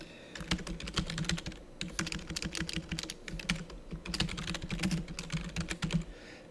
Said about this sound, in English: So while I'm typing this out